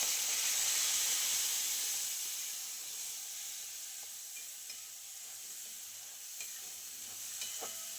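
Ghee tempering with cumin, cloves, cinnamon and curry leaves for rice hisses softly in a pan, a steady, faint sizzle that eases slightly midway, with a few small pops and clicks.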